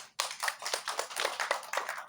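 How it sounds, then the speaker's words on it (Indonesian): An audience claps together, with a burst of fairly faint, evenly paced hand claps that carries on for about two seconds. "Tepuk tangan bersama."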